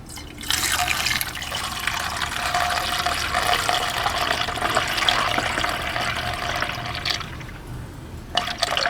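Coolant pours into the radiator of a 1998-2002 Honda Accord V6. A steady splashing, gurgling stream runs for about seven seconds, breaks off, and then a few brief trickles and drips follow.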